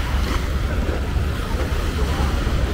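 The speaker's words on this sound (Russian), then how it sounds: "Волны большие сегодня." Big ocean waves wash in on Patong beach in Phuket, Thailand, as a steady, close, broadband roar of surf and wind that runs unbroken throughout, with no clear individual breaks.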